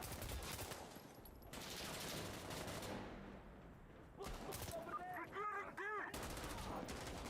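Sustained rapid automatic gunfire from a Call of Duty Black Ops match rattles in dense bursts, somewhat quiet in the mix, with brief pauses and some electronic game tones near the end.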